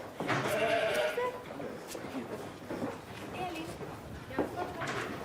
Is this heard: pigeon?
no